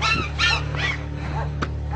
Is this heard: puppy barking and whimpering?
yes